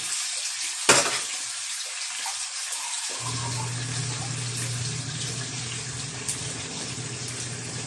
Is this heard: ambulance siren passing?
no